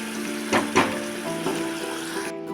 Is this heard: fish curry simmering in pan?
yes